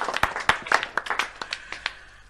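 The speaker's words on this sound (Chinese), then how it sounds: "鼓掌鼓掌鼓掌" A small gathering gives scattered, uneven hand claps, close by and fading over a couple of seconds, with no voices over them.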